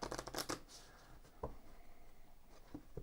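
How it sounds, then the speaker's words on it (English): A deck of map cards being shuffled during a tabletop game, with quick riffling bursts at the start and a few softer shuffles and taps afterwards, close and clear with no talking. "We need to shuffle this map deck."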